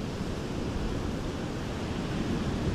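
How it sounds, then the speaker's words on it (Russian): Fairly powerful ocean waves break on a pebble beach at Jaco, Costa Rica, a continuous loud broadband wash of surf and rolling water with no voices over it. "Здесь волны так помощнее, чем у нас."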